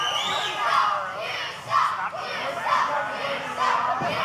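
A crowd at a professional wrestling championship match in an arena cheers and chants, loud and sustained with rhythmic swells of shouting from a large audience, alongside some voices.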